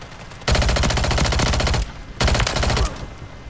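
Two long, loud bursts of rapid automatic gunfire from a Call of Duty free-for-all match, each lasting over a second with a short pause between them, close and dense.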